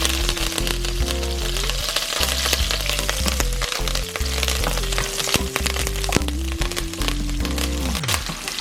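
Herbs sizzle in hot oil for brown stew chicken, a dense crackling fry that runs steadily and close throughout, with a faint tonal hum running beneath it and no voices.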